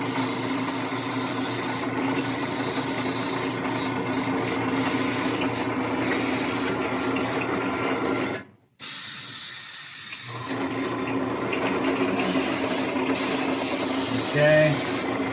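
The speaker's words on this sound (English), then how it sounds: "this is just a quick spray of some highlight areas" Paint sprays in long, loud hissing bursts while highlighting a zombie skull, with one brief pause partway through before the close, steady spraying resumes.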